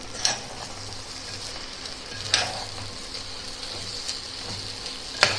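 Rice roasts in a pan with ground masala, giving a continuous close sizzle and crackle while a utensil stirs it now and then with a few sharp scraping clinks, and nobody talks.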